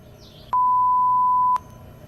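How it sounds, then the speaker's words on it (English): A single steady electronic beep standing in for a gunshot, a clean tone lasting about one second between quiet background hum. "The beep is the sound of the gunshot."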